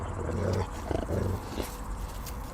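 A giant northern wolf at a wolf park growls low and throaty in a few close, rumbling bursts over a noisy background.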